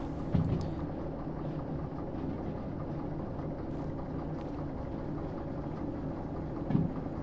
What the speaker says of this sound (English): Let's just get the entire train past this junction.